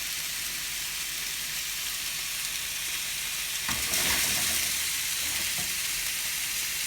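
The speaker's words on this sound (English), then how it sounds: "twist it on the other side to get it nice and brown" NY strip steak sears loudly in a hot pan, a dense continuous sizzle and crackle that swells briefly as the meat is turned, close up with no voices.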